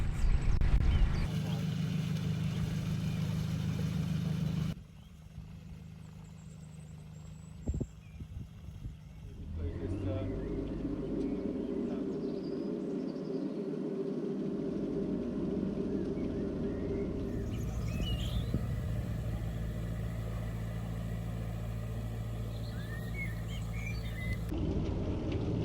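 A narrowboat engine chugs steadily while motoring through Foxton Locks, a low continuous drone close by with a few brief knocks, and a voice talks over it.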